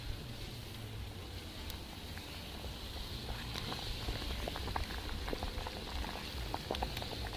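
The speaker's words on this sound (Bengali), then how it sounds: "এইভাবে পাঁচ মিনিটের মতো আমি সেদ্ধ করে নেব" Water at a rolling boil in a pot holding wheat-flour flatbreads with a spoonful of white oil added, giving a steady close bubbling hiss with scattered small pops and no voices.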